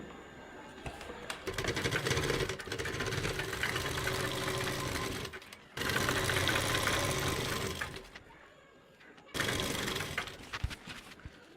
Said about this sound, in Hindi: फिर हमने एक लेग से दूसरी लेग तक सिलाई लगानी है